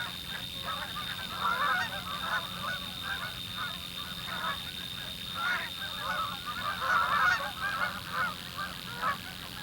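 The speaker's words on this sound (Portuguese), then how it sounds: "chegam os primeiros gansos." A flock of migrating geese honking repeatedly in Alaska, overlapping calls rising and falling at moderate distance, with steady background hiss.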